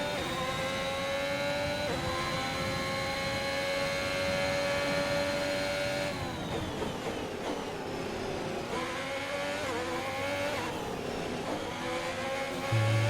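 Formula 1 car engines from the F1 2021 racing game drone steadily at high pitch, a close onboard whine that holds, then shifts through gear changes and revs.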